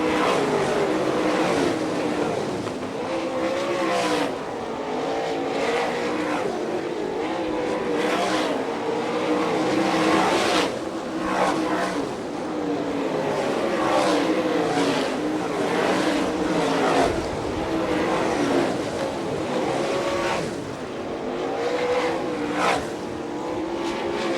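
Sprint cars roar around a dirt oval at an All Star Circuit of Champions Ohio Speedweek race in Fremont, Ohio, engines droning loud and continuous as the pack runs through heavy lap traffic, with repeated rising and falling swells as cars pass.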